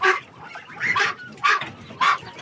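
Loud honking calls from geese squabbling with ducks over territory nearby, four or five harsh bursts in quick succession with short gaps between.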